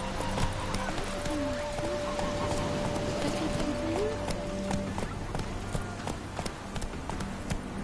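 Roach the horse gallops in The Witcher 3, steady clip-clop hoofbeats running throughout, with a tonal whine and background game sounds mixed in under a voice.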